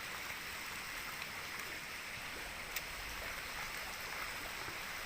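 A stream gushes steadily in a secluded outdoor spot, a continuous broadband rush of flowing water that stays quiet and even throughout with no voices.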